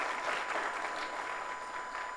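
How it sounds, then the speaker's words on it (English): Conference audience at an opening session of PGConf India 2024 applauding the sponsors, a steady, dense crowd clapping that holds at an even level throughout with no talk over it. "a round of applause for our diamond sponsors, AWS, Google Cloud, and Microsoft"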